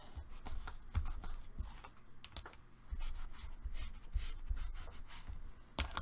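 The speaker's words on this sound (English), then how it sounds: "And burnish it. You can crease it there on the sides." Paper is burnished and creased by hand while folding a paper craft, giving soft close rubbing and scraping strokes with small taps. The sounds are faint and come in uneven bursts over several seconds, with no talking.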